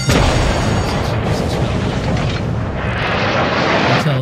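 Warship guns fire in the naval combat game World of Warships, a dense, loud rumble of booming salvos that rolls on for several seconds before easing slightly near the end.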